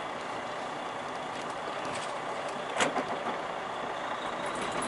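A car passes along a road right beside the listener near a Norfolk Southern train yard, with a steady engine and road rumble and a brief louder swell as it goes by.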